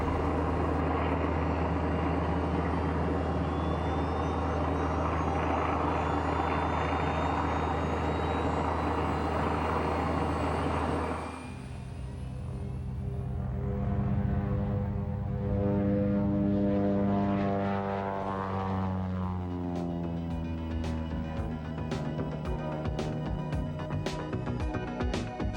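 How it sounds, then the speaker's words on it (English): The world's last flying Fairey Gannet, a World War 2-era propeller aircraft, roars loudly at an air show. A steady, heavy engine drone holds for about eleven seconds, then turns into a shifting whine as the plane passes, with no voices. "where Neil Morford puts the world's last flying gannet through her paces."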